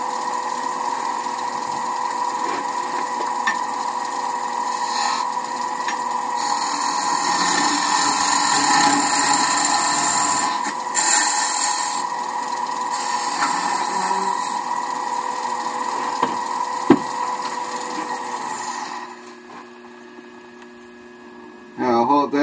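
A wood lathe spins steadily while a stub is turned for a Christmas ornament globe, a continuous humming whine with tonal overtones and occasional scraping of the tool on wood, fading near the end before a brief restart.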